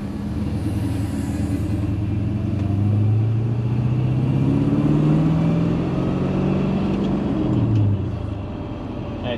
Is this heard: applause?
no